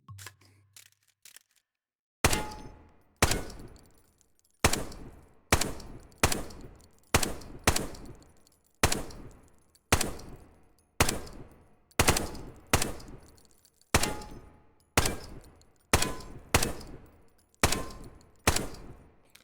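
Gunshots in the VR shooting game Contractors on a training shooting range: about sixteen loud single shots at a steady pace of roughly one per second, each with a short echoing tail, heard alone without talk.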